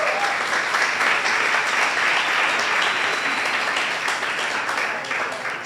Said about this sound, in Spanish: ¿Qué le parece si le da un fuerte aplauso?